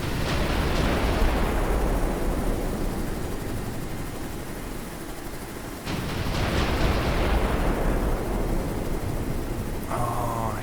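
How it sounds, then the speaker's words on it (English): A huge naval cannon on a giant aircraft carrier in an ocean-planet video game fires twice, each blast a massive roaring boom that rumbles and slowly decays over several seconds, with a faint electronic tone at the end. "So let's use our gun, which is like a big ass freaking cannon."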